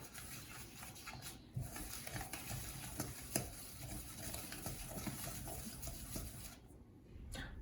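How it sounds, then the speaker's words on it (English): Crumbly salt dough is worked in a bowl with a continuous gritty scraping and rubbing, steady and close, with brief pauses near the start and end. "So you keep mixing until the dough starts to come together a little more."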